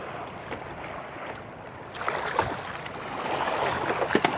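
Steady Amihan monsoon wind roars over choppy sea, with waves splashing against a handline fishing boat growing stronger toward the end; no voices.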